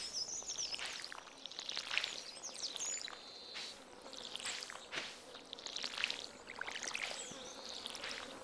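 Crops are watered in Stardew Valley with a run of soft splashing, sprinkling bursts that come and go in quick succession over a faint background.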